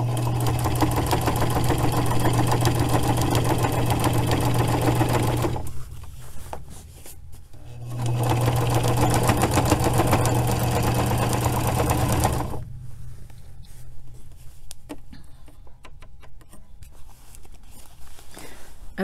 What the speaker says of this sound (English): I am going to need to buy me another industrial sewing machine